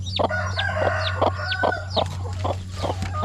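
Chickens cluck repeatedly in short bursts, with rooster-like crowing calls over a steady low hum, on a farm in the Philippines.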